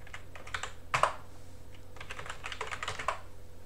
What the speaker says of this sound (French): j'appuie la touche vers le haut pour récupérer la dernière ligne tapée